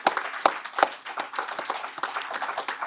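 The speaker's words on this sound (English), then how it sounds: "I really want to give you a round of applause on that, Craig, for your leadership." Light, scattered clapping from a few people at a legislative breakfast, several sharper claps early, then a thinner patter that continues steadily.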